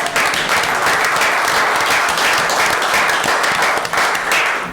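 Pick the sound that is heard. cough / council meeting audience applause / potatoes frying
council meeting audience applause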